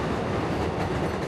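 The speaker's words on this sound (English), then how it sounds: "the sound of the rumble of the 7 train above" An elevated 7 subway train in Jackson Heights, Queens, passes overhead with a steady, heavy low rumble and rattle that fills the whole moment without a break.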